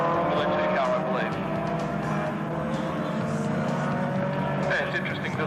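Race cars lap a circuit, a Sports 1300 and a 1600 Formula 2 car among them. Their engines whine and shift pitch under a commentator's continuous talk, with another engine sweeping past near the end.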